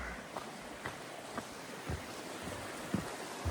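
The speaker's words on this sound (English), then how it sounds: "here's the bridge crossing the Sto Creek" Creek water runs beneath a trail bridge on the Appalachian Trail between Springer and Gooch Mountain as a faint, steady rush, with a few soft thumps scattered through it.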